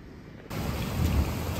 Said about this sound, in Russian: Дождь поливает вовсю.